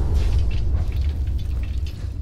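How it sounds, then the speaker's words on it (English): Cars exploding inside the Corvega Auto Factory during a Fallout 4 boss fight make a deep, continuous rumble of heavy booms that rolls on loudly from start to finish. "All those huge explosions, I think, are all the cars in the Corvega Auto Factory where the boss fight is going off"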